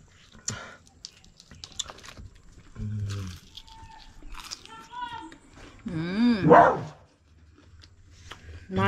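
A dog barks a few times close by in a home setting, mixed with clattering and rustling, while people talk nearby.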